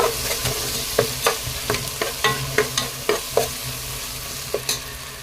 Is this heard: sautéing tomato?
yes